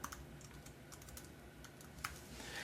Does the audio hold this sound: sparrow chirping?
no